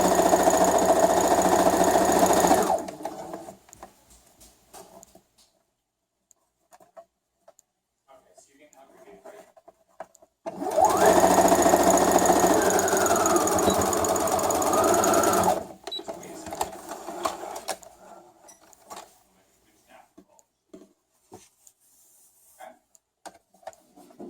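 A sewing machine stitches fabric face masks in two loud, steady bursts, one of about three seconds and a longer one of about five, separated by quieter handling sounds.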